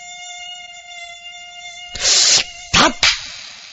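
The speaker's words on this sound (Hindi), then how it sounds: "गायब हो चुकी थी इस मच्छर के कारण जो पिछले आधी घंटे से उसे परेशान कर रहा था।" A mosquito's thin, steady whine hangs in a night-time horror story scene, then gives way to a few loud, abrupt bursts of noise.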